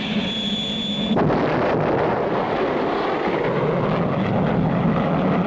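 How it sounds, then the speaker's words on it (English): A cartoon rocket blasts off with a sudden loud roaring whoosh that cuts in after a thin whine and stays as a steady, dense rumble to the end. "What a takeoff! What a takeoff!"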